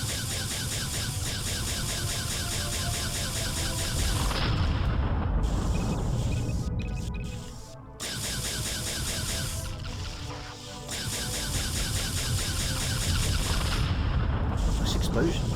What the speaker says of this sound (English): Nice explosions like them.